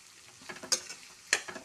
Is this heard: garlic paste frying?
yes